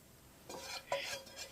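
Chicken curry masala in Kannur style being stirred and scraped with a spoon in a metal pot while moved to another vessel, a few faint, soft scraping and clinking strokes in a quiet kitchen.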